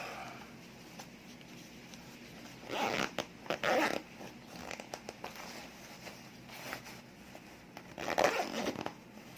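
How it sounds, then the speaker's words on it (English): A zipper on a Super 8 film loading bag is pulled in a few quick bursts, short rasping runs separated by pauses and small handling rustles, close and clear. "And of course you'd zip this up."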